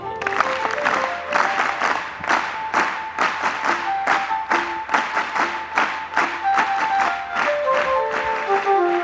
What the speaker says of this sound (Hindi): आइए एक बार 3 ताली वादन से राज्यपाल जी का स्वागत करते हैं